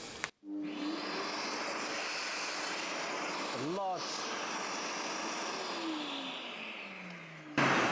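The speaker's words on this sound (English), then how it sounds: "I've got my dust extraction hooked up as well." A Festool dust extractor runs steadily during drilling, a loud continuous roaring whoosh of airflow through the hose that starts abruptly, holds with a brief whine-like shift midway, then cuts off at the end.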